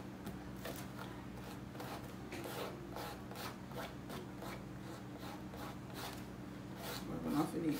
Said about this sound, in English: Rubbing off any extra.